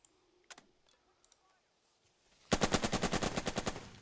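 Machine-gun fire in the wargame Burden of Command, a rapid burst of a dozen or so sharp shots after a few scattered clicks, moderately loud with no talking over it.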